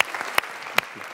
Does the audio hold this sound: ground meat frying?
no